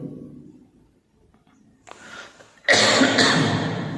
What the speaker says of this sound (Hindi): खांसी हो गई, ठंड लग गई